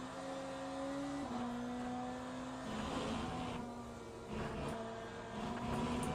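A BMW hypercar racing at Le Mans, its engine a sustained, loud droning whine that shifts in pitch as it accelerates and lifts, with no talk over it.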